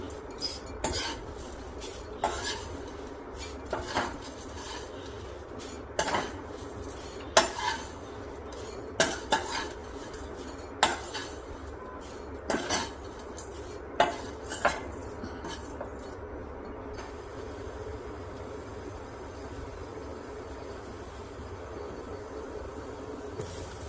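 Roasted flattened rice (aval) is scooped from a hot pan with a metal spoon, giving a steady run of sharp clinks and scrapes against the pan over a low kitchen hum before the clatter fades out.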